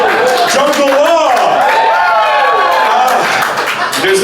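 Crowd applause and cheering from a live Kansas City audience, a dense, steady wash of clapping and whoops that fills the whole stretch without pause.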